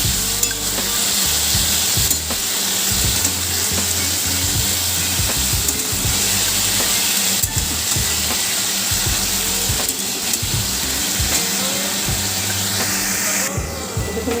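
Bengali bottle gourd peel fry cooking in a pan: a loud, steady, dense sizzle that continues throughout, with occasional scraping and stirring noises layered on top and no voices.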